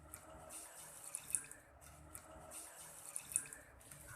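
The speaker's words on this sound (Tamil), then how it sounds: "அடுப்புல கடாய் வச்சுட்டு 2 கப் தண்ணி சேர்த்துக்கோங்க." Two cups of water poured into a kadai set on a stove, a soft, fairly faint splashing and trickling that comes in two swells, with no voices.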